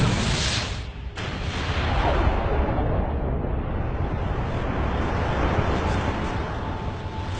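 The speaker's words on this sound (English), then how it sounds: "the universe simply burst into existence. An event called the Big Bang." A loud, sustained explosive roar like a huge blast rumbling on for several seconds, dense and broadband throughout, with a brief dip near the start, meant as the Big Bang.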